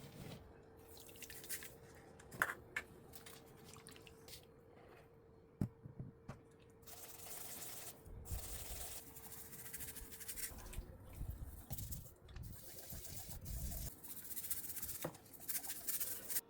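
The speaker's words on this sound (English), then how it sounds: "I'm going to take a soft brush and scrub the powder in" A soft brush scrubbing Vanish or Astonish oxy stain-remover powder into soaked fabric in a bowl, faint wet bristle rubs and squishes in irregular bursts, with scattered drips and clicks close by.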